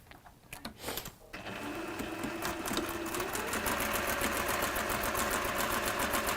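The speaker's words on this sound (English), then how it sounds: "We're going to sew those semicircles at the machine." A sewing machine stitches fabric semicircles, starting after a few clicks and handling noises, then running with a steady, close, rhythmic needle chatter to the end.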